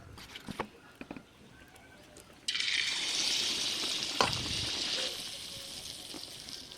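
Pitha batter dropped into hot oil in a wok sets off a sudden loud sizzle after a few quiet seconds of faint handling noises, then keeps frying with a steady bubbling hiss that softens near the end.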